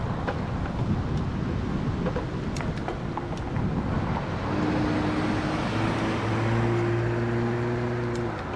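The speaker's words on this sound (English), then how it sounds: "I got a car behind me too." A car approaching from behind on a road near Red Gate Park in Oelwein, Iowa, a low rumble that grows louder into a steady engine drone over wind noise in the second half.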